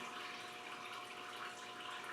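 Coolant drains from the engine block of a Land Rover Series 1, a faint steady trickle and hiss of liquid running continuously, quiet and close.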